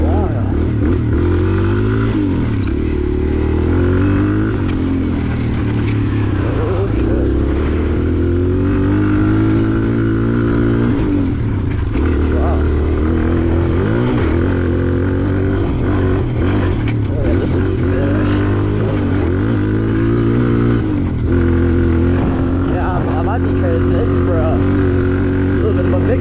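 A dirt bike engine drones continuously while trail riding, its pitch rising and falling as the rider works the throttle through repeated revs and shifts, close and loud throughout, with occasional speech over it.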